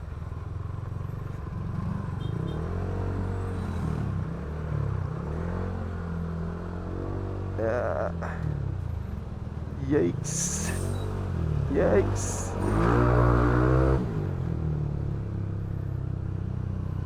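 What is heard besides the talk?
traffic noise on the road, motorcycles and cars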